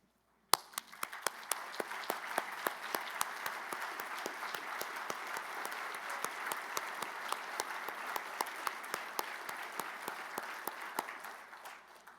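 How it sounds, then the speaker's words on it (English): An audience gives a sustained round of applause for standing service members and retirees, steady dense clapping with a few sharp louder claps standing out, lasting over ten seconds before stopping abruptly. "Would all service members and retired please stand so we may honor you with a round of applause"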